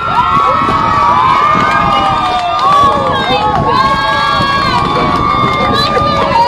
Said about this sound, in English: can I have a round of applause for Konga entering our stage?